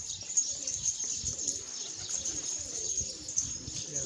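Pigeons kept in a loft flap and coo close by in a steady soft wash of wingbeats and low calls, with faint chirps and a constant high hiss behind them.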